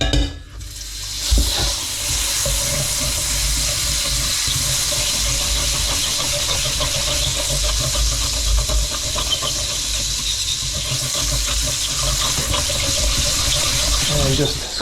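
Butter sizzling and frying in a hot pan beside resting Wagyu and Angus steaks, a steady continuous crackle and hiss running close and loud throughout, with faint stirring clatter and no talk.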